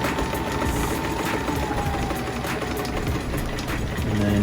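A sewing machine stitches a cotton face mask, its motor giving a steady, fast mechanical hum with a regular needle chatter throughout, close and fairly loud.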